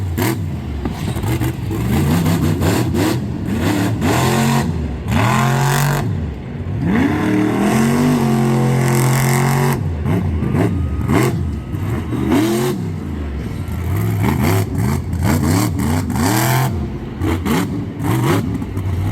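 A monster truck at a Monsters & Megas freestyle run at Lebanon Valley roars loudly and continuously, its engine revving up and down in surging waves while the truck spins around and charges the next hit.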